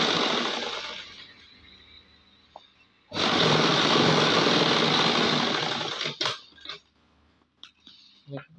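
Sewing machine stitching elastic into the bottom hem of army trousers, running in two loud continuous whirring bursts close by, with pauses, fabric handling and small clinks in between.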